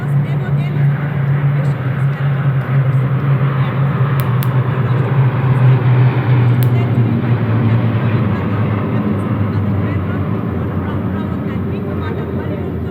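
Indian Air Force military aircraft in a Republic Day parade flypast, a loud steady roar of engines overhead lasting throughout, heard under a commentator's voice.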